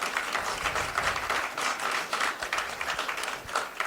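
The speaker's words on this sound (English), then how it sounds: "Please give a round of applause to Gina Bacon and Jennifer Giovanetti" Audience at a library author talk clapping, a dense, even wash of many hands at moderate loudness that continues throughout without talk.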